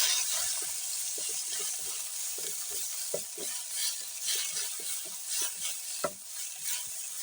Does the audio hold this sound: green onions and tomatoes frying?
yes